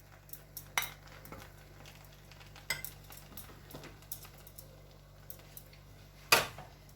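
Dishes and cutlery clink sporadically in a home kitchen while plates of salmon masala and saffron rice are served, sharp isolated knocks with a louder clatter near the end over quiet background.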